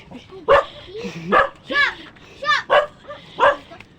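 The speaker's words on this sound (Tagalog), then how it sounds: "May mga aso." Several dogs bark in short, sharp bursts, some high and yappy, scattered irregularly over a few seconds with faint voices in the background.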